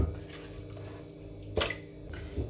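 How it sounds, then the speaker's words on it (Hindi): Water poured from glasses into a cooking pot holding bay leaf and black cardamom for yakhni mutton pulao: a quiet, brief splashing with a sharper pour burst near the middle, no voices. "5-6 गिलास पानी डालूंगी।"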